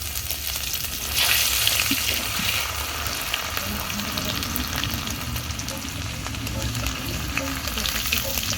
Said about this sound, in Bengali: তো চিকেন ভাজার তেল কিছুটা কমিয়ে নিচ্ছি, দিচ্ছি গ্রেট করা রসুন